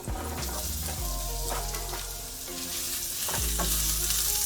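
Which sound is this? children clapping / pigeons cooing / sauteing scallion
sauteing scallion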